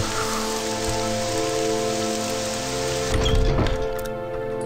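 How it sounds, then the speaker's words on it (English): Steady rain falls in the video game Morrowind, a dense even patter with a brief louder rush near the end and no voices. "I will not accept that it is raining."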